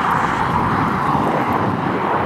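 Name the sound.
airplane flying overhead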